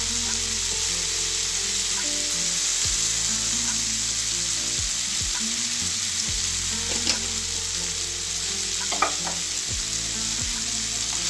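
Spiced potato filling with turmeric and salt fries in a pan while a spoon stirs and scrapes through it, a steady close sizzle running throughout with occasional soft knocks of the spoon.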